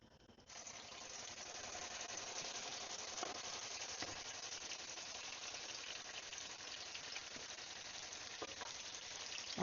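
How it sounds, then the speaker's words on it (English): Beef wellington searing in a hot pan gives a steady, close sizzle that holds evenly throughout with faint crackles, no voices. "we're going to put this in the pan to sear"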